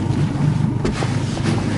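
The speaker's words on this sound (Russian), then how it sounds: "пока прогревается мотор" A small outboard boat motor warms up at idle with a steady low drone on the Minsk Sea, mixed with wind buffeting the microphone and faint water sounds.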